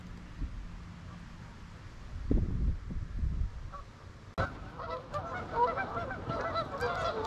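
A busy flock of over a hundred geese honking on rocks, the calls growing denser and louder partway through, with some rustling and low thumps early on.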